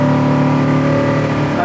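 A 1970 Oldsmobile Cutlass with a 455 V8 roars steadily and loudly up close while accelerating through the gears, its deep engine note holding strong and even with no talking over it.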